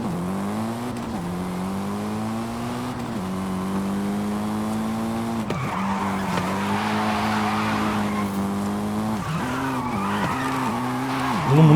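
Tyres of a 720 hp Mitsubishi EVO III screech continuously while drifting in Forza Horizon 5, the sustained squeal rising and falling with the engine revving beneath it, close and steady.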